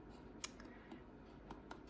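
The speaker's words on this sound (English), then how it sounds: "I like to also just cut off bits of it so that my hand doesn't get in the" Scissors snip through paper while finishing a cross-stitch ornament, giving a few faint, sharp clicks spread over quiet room noise.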